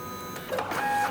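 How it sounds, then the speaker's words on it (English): MakiBox A6 3D printer running its first print, stepper motors whining and chirping in shifting tones over a steady mechanical hum, close and alone. "Now I'll just let this print run until it's finished."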